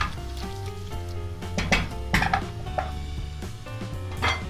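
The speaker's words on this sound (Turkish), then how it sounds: "Böyle arada karıştırarak kavuruyoruz." Chicken pieces sizzle and crackle steadily in a hot pan, releasing their juices, with occasional scraping stirs and clinks of a utensil, close up and without talk.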